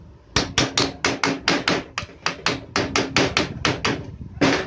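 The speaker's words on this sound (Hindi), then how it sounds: "ज़्यादा ज़ोर से नहीं हथौड़ा मारेंगे वरना ये टूट सकती है" A hammer taps repeatedly on the shaft of an air cooler exhaust motor during repair, with about twenty sharp, close, metallic strikes in an irregular quick rhythm.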